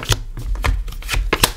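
A deck of tarot cards shuffled by hand, a quick series of crisp riffling flicks and soft slaps in an uneven rhythm, close and clear with no talk.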